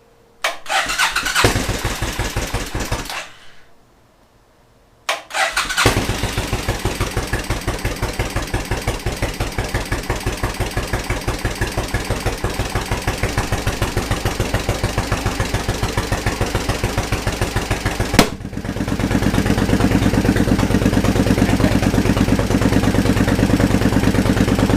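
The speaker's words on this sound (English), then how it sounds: "This thing hasn't been started in probably a year." A Suzuki Intruder motorcycle engine, unstarted for about a year, cranks, dies briefly, then fires up and settles into a loud steady idle, rising slightly toward the end.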